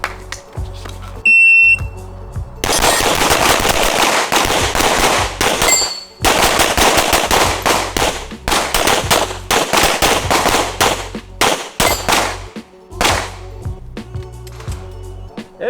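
Pistol shots ring out during a practical shooting match in rapid, very loud volleys with brief gaps, alongside a timer's beep and clanging steel targets.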